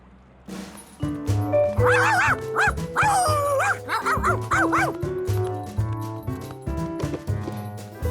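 A cartoon dog in a Curious George episode gives a string of yips, bow-wows and whimpers, loud and close over a bed of background music.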